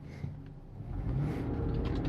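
A Toyota 4Runner engine with a Pedal Commander throttle controller set to Sport Plus gives a short rev, a low rumble swelling from idle into a steady, stronger drone up close.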